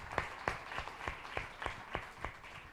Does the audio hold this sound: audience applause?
yes